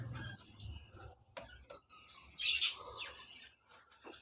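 Chicks in a bird breeding box give a few faint, high, brief chirps, with quiet handling noise and some low sounds between them.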